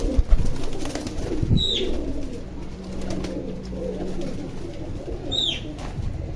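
Pigeons on a rooftop in Gulberg under cloudy skies coo softly twice, a few seconds apart, over a steady low outdoor rumble.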